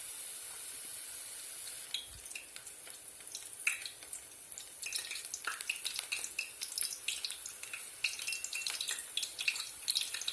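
Apple beignets in batter fry in a pan, giving a quiet, steady sizzle with scattered small pops and crackles that grow busier as it goes on.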